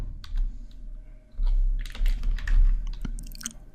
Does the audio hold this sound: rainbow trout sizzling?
no